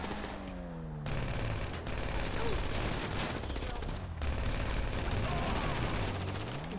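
Dense, continuous gunfire bursts from Grand Theft Auto V during a prison break heist shootout, with sirens wailing and sweeping underneath across the whole stretch.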